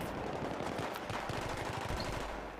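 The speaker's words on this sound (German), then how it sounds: "wieder schieße ich einmal, aber ich bin von hinten beschossen, aber noch nicht tot." Automatic gunfire from Battlefield 3, during a team deathmatch on the Kharg Island map, rattles in rapid bursts of close, loud shots that continue through the moment.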